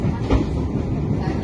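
Train rumbling at Semarang Poncol station in Indonesia, a steady close low roar of rolling railcars that fills the whole moment without break.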